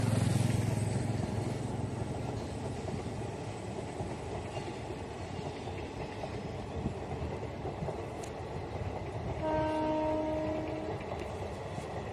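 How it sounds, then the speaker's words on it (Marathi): A train passing by on a railway beside a village road, a steady broad rumble with clattering wheels across the whole stretch, moderately loud and fairly near, with a brief tonal whine near the end. "हे बघा रेल्वे"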